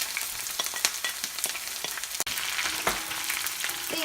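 Chopped ginger, garlic and slit green chillies fry in oil for a Kerala-style dates pickle, sending up a bright, continuous crackling sizzle with scattered pops and one sharp knock partway through.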